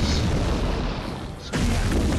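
A main gun fires in the naval game Abyss Horizon, heavy rumbling booms that dip briefly before a fresh blast, dense and close with no speech.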